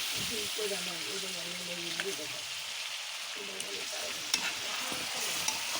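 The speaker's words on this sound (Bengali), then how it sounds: "মাছটা কষানো হয়ে যাচ্ছে" Fish sautéed in a pan over a clay stove, a steady close sizzle with soft stirring scrapes, faint voices underneath.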